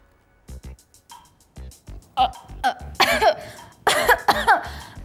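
Repeated coughing from a sick man in a household drama, short harsh bursts in irregular clusters, growing louder and rougher toward the end.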